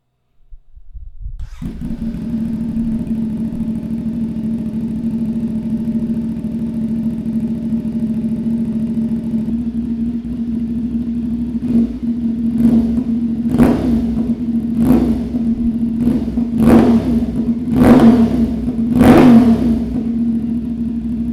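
A KO Lightning exhaust on a 450SS motorcycle: the engine cold-starts, settles into a steady idle, then gets revved sharply about six times in quick bursts, close and loud.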